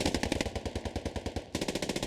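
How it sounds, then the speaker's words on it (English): Rapid SMG gunfire in a competitive first-person shooter match, sharp bursts fired at a steady rattling rhythm with a brief pause near the end before another burst, close and punchy with no talk over it. "Vinicius is absolutely deadly with that SMG today"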